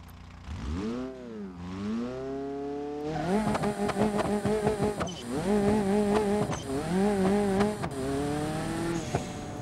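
A car engine in BeamNG.Drive revs up and down, then launches with a rising, buzzy high-revving whine through repeated gear changes and tire chatter, loud and close.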